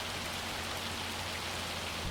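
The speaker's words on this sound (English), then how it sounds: "It still irks me the fact that, you know, it's hailing, right?" Hail falling in the Farming Simulator 25 video game, a dense, even patter of pellets on a cover overhead, continuous and unbroken for the whole stretch with no talk.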